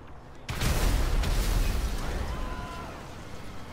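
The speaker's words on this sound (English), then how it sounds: "Oh, I'll throw a grenade." Grenade explosion in GTA 5: a sudden loud blast bursts in after a short quiet lead-in, then a rumbling, crackling tail slowly fades over the next few seconds.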